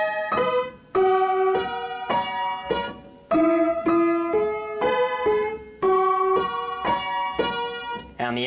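A piano plays a song's riff slowly, one clear note after another in a repeating phrase, with some notes held, close and moderately loud with no talking.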